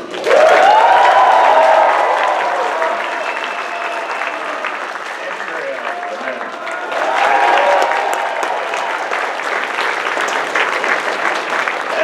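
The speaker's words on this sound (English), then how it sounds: "please giving a warm round of applause to a few special guests" A large audience claps loudly and continuously, swelling again partway through with a few cheers mixed in.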